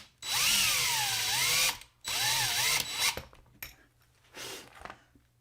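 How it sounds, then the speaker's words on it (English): A Dremel drilling into an aluminum motorcycle handlebar on a vintage Honda CB350, two long, close, high-pitched whining runs with wavering speed, then shorter bursts and clicks. "when you're drilling into aluminum, you're going a lot further than you think you are"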